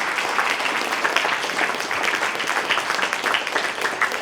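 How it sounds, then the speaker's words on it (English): Audience applause at a press meet announcing NEET UG 2025 exam results: dense, steady clapping from a crowd, sustained at an even level throughout with no voices on top. "but huge round of applause to them."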